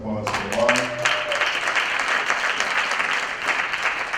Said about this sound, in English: Give it a round of applause for Alana.